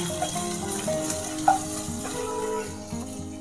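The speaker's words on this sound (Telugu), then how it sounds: "1 టీ స్పూన్ అల్లం వెల్లుల్లి పేస్ట్ ఇందులోకి వేసేసుకుందాము. ఇది కొంచెం ఫ్రై అయిన తర్వాత మిగతా వేసుకుందాము." Ginger garlic paste fries in a pan for a baby corn curry, giving a moderate sizzle with a few stirring knocks and clinks, close by and without talk.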